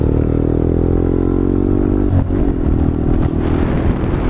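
A motorcycle being ridden gives a loud, steady engine drone with a constant rumble and some clatter, close up throughout, with no talking.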